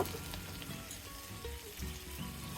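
Browning onions with ginger-garlic paste and salt frying in a pan, a close, continuous crackling sizzle with soft stirring underneath.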